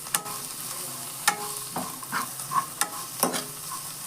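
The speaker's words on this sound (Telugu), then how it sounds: "ఈ మొత్తం వేగాలండి." Chili powder and spices fry in a pan for a toor dal dish, giving a soft sizzle under repeated scraping stirs, with sharp clinks of the spoon against the pan at uneven intervals and no talking.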